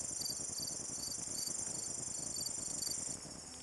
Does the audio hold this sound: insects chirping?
yes